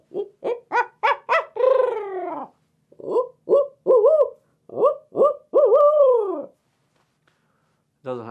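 A handheld owl call blown to imitate hoots for turkey hunting, a loud close series of rhythmic hoots in two phrases, ending with a drawn-out trailing call, with no other sound between them.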